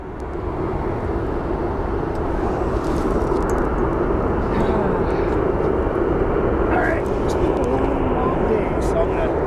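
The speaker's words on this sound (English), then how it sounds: "right behind it we have a Volaris plane coming in, probably headed to Guadalajara. You can see it taxiing right behind." A Volaris airliner taxiing at Phoenix Sky Harbor airport gives off a steady, loud, broad engine roar that holds throughout, with faint background noises on top.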